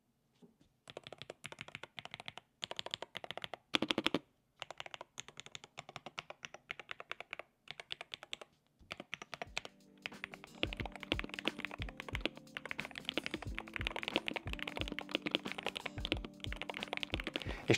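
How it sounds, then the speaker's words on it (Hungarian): Typing on an Asus ROG gaming keyboard with a soft foam dampening layer, a steady run of close, muted key clacks with brief pauses, growing denser and busier in the second half, with no talking. "Nagyon király a billentyűzet hangja"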